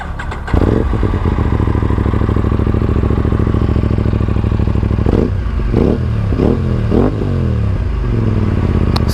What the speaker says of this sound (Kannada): first exhaust note ಕೇಳಿಸ್ಕೊಂಬಿಡೋಣ